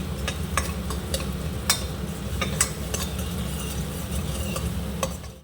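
Onions fry in oil in a pan with a steady close sizzle, while a utensil stirs and scrapes with repeated light clinks.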